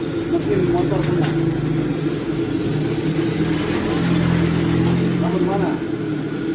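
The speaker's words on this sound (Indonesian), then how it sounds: "Lagi tes mesin motor punya." A motorcycle engine runs steadily while being test-revved at a roadside tire repair spot, a continuous mid-pitched drone with slight swells, as people talk nearby.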